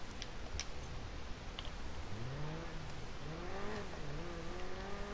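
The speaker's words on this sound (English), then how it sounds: "This A45 sound nice as hell though" Mercedes-AMG A45 hatchback engine in Need for Speed Payback, revving steadily with rising pitch as it accelerates through the gears, a continuous loud drone with faint ticking above it.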